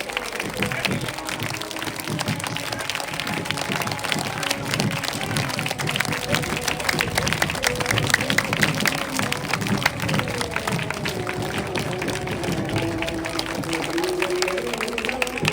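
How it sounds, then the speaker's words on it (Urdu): An audience at a gathering of ex-service personnel in Orangi Town, Karachi, claps steadily and densely for the whole stretch, a sustained wash of many hands with a faint voice underneath. "بہت زوردار تالیاں ہونی چاہیے"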